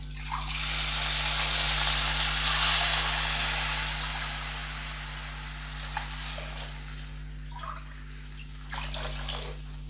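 Three cups of water poured into a hot pan over roasted rice for rice upma burst into a loud, steady sizzling hiss that slowly fades, followed by a few light clinks and stirring sounds.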